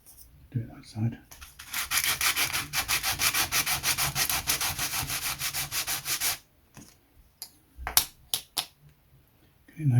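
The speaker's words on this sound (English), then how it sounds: "So do the sanding. Put my little sanding block." Sanding block rubbed over wood to flatten a gap repair, a steady run of close, rasping strokes for about six seconds, then a few louder knocks and scrapes amid quiet.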